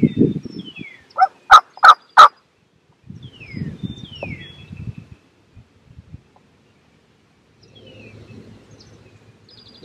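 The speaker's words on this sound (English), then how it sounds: "These birds had gobbled on the limb for about 30 minutes" Wild turkeys roosted on a ridge top just inside a tree line, gobbling in a loud rapid burst of several calls, followed by softer rustling and distant bird sounds in quiet woods.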